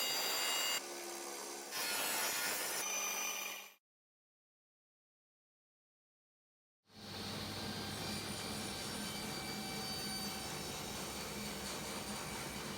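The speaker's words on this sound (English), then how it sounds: "I ripped down a piece of scrap 19mm pine that I had to a width of 50mm" A power saw rips a scrap 19mm pine board, giving a loud continuous whining buzz that is cut short and then resumes as steady sawing after a stretch of complete silence, with no talk.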